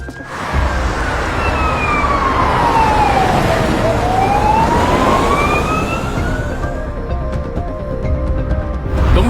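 An ambulance siren wails in a sweeping rise-and-fall pattern as the vehicle approaches and passes by, loud over road noise, then fades away toward the end.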